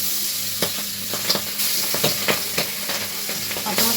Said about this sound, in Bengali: পাবদা মাছ তো ভীষণ ফুটতে থাকে, খুব আওয়াজ হয়